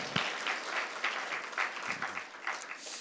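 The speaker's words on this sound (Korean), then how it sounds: "우리 한유리하고 어린이들을 위해서 큰 박수 한번 주시기 바랍니다." A congregation at an all-ages church worship service applauds for the children. The clapping is steady and somewhat distant, holding at an even level for a few seconds.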